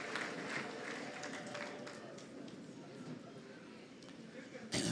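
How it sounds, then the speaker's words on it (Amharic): Church congregation applauding and ululating in praise, a dense, steady wash of clapping and trilling voices filling the room throughout, with a louder burst right at the end. "ለጌታ ክብር እልልታ ጭብጨባ"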